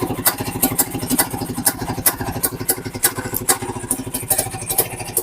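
An old motorcycle with a genuine Tula engine runs close by, its steady, rapid low-pitched putter punctuated by sharp clattery pops, loud and alone throughout.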